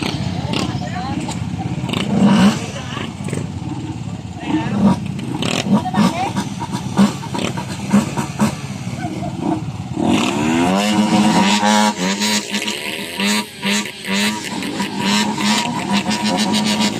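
Motorcycles at a motor show in Guimaras, engines revving and roaring up close in surging bursts over a busy crowd, growing louder and more sustained partway through, while people talk nearby.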